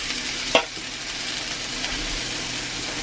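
A steak fries in a cast iron pan over moderate heat with a steady, even sizzle. One sharp clank of metal comes early, then the hiss carries on unbroken, close and fairly loud, with no voices.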